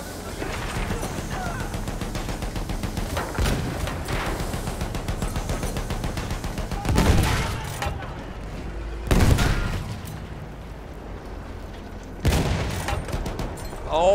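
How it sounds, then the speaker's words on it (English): Enemy machine gun fire in a tank video game rattles in rapid bursts amid booming cannon blasts and engine rumble, with loud explosive hits near seven, nine and twelve seconds and occasional radio voices. "Attenzione, mitragliatrice nemica!"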